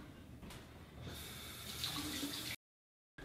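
A beard trimmer is rinsed under a running bathroom tap, water splashing steadily and growing fuller before cutting off abruptly into silence.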